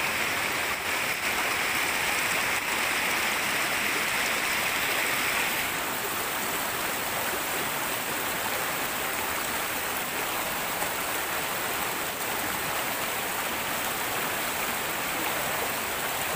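River water rushes steadily over rocks at a Philippine river crossing, a dense, continuous hiss and roar with no pauses and no voices throughout.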